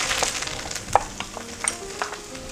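Finely chopped onion sizzles in a hot pan, a steady close frying hiss with a few small pops and stirring clicks.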